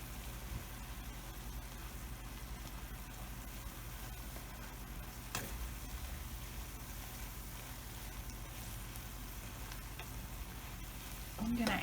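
Food sizzling in a pan after dried oregano goes in, a constant low frying hiss throughout with a brief stirring knock midway and another near the end.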